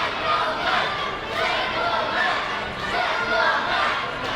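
Fight night arena crowd rallying behind the champion, a dense roar of shouting and cheering that surges and dips in waves, with voices blending into the mass.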